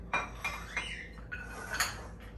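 Spice is tapped out of a container into a bowl of mithai mix, a few light metallic clinks and taps spaced irregularly, close and fairly quiet.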